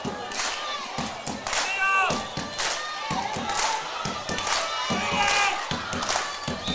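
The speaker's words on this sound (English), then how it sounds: "Crowd going." Spectators at a women's match between Mermaids and St Margarets cheer and shout in a steady, loud wave of crowd noise, with excited voices and a few claps and thuds rising through the din.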